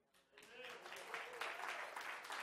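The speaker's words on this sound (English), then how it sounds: "can we have a round of applause for the praise team?" Applause for a church praise team builds from a quiet start into a steady wash of clapping that runs to the end, heard from within the congregation.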